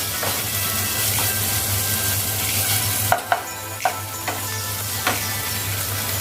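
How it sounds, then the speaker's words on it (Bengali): A paste of coconut, mustard and poppy seed fries in a pan for a prawn dish, giving off a steady sizzle with a few sharp spatula clinks and scrapes as it is stirred. "নারকেল সর্ষে পোস্ত বাটা ভাজা হয়ে গেছে"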